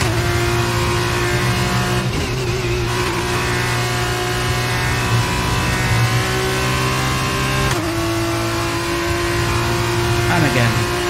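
Formula 1 car in the F1 22 racing game at Silverstone, engine revving on throttle: a loud, sustained high-pitched whine rising through gears with brief shift breaks, under talk.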